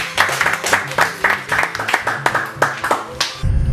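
Audience applause at a song contest after results are announced, with rhythmic, fairly close clapping in an unsteady beat that stops abruptly at the end.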